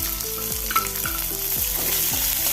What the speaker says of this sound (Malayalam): നല്ലപോലെ ഒന്ന് വാടുന്നവരെ ഇളക്കിക്കൊണ്ടേയിരിക്കണം